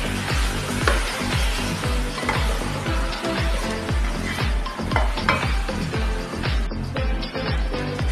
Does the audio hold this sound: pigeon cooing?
no